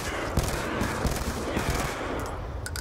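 Weapons firing at zombies on the Nuketown Zombies map in Black Ops 2: a dense, continuous clatter of overlapping shots and impacts at moderate loudness, with a few sharper cracks standing out from the wash.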